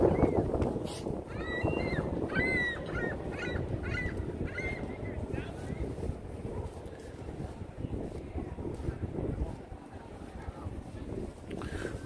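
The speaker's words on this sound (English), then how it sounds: "And more Canadian geese there." Canada geese honk near the Hudson River in New York City, a run of short calls that fades after a few seconds, heard over wind noise and a steady outdoor rumble.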